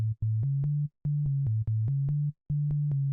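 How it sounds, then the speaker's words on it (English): A sub-synth bass preset with boosted lows pulses in a repeating pattern of deep sustained notes with short clicky attacks, grouped into phrases with brief gaps, alone and fairly quiet. "which is the sub-synth bass preset I use"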